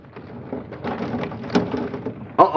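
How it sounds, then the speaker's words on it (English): Heavy rain pours steadily during a severe thunderstorm, a dense continuous wash with a sharper crack or rumble near the middle and a louder burst at the end. "Yep, this is definitely a severe thunderstorm."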